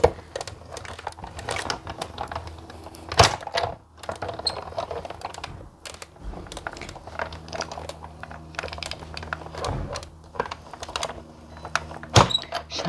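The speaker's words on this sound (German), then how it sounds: "und stanze das Ganze aus" A die-cutting machine punches out a layered paper card sandwich for a bird greeting card, giving a dense run of crisp clicks, crinkles and mechanical clatter with sharp louder snaps, close and without talk.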